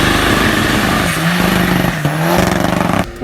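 Volkswagen Touran with a 1.9 litre TDI diesel engine revving up close, a loud continuous throaty roar that rises and falls in pitch before cutting off near the end.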